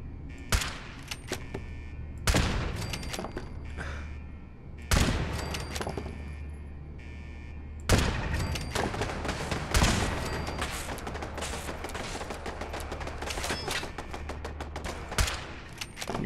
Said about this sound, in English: Well, it's not like they're shooting at us or anything.